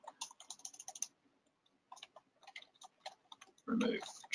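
Fingers tap a computer keyboard while markup notes are entered in BIM 360 software, quick light clicks in uneven bursts with short pauses, close and quiet, then a brief louder thump at the end.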